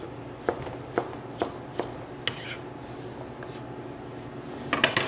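Potatoes diced with a knife on a cutting board make a run of evenly spaced sharp chops, close and moderate in volume, followed by a brief cluster of quicker knocks near the end, with no talking.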